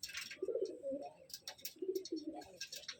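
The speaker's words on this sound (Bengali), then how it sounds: "মালবাই পায়রা দেখুন।" A Malbai pigeon gives soft, low cooing calls, two distinct rounds of throaty coos heard faintly and close by in a quiet setting.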